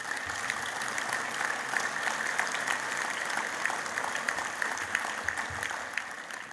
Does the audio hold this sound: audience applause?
yes